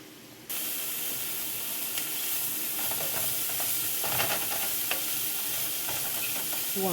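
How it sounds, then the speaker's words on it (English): Smoked sausage sizzles steadily in a chili pot, a constant hiss starting abruptly after a brief quiet moment, with scattered scraping stirs and clinks of the spoon against the pot throughout. "We want to cook up our smoked sausage in the pot first"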